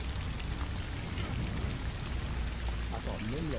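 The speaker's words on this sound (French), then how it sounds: "Rentre dans le camion, la pluie, elle est radioactive." Steady radioactive rain in the horror game Ghostwatchers, a dense continuous hiss of falling drops close around, with faint voices underneath.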